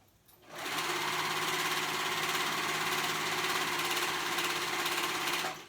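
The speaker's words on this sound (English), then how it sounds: "So you're sewing the band on." A sewing machine runs steadily for several seconds as it stitches an elastic waistband onto a pair of shorts, giving a close, even mechanical whir with rapid needle rhythm that starts and stops cleanly, with no talking.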